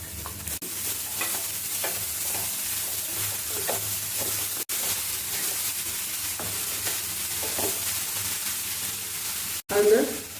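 Snake gourd added to a pan of ground paste and stir-fried, a steady close sizzle with spatula scraping, two brief dropouts and a louder clatter near the end, no talking.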